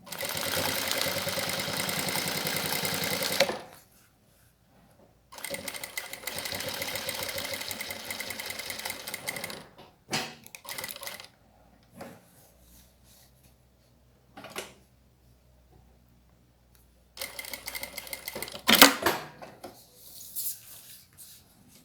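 Sewing machine stitching fabric binding onto a plastic pouch, running in several bursts of rapid whirring separated by quiet pauses and small handling rustles.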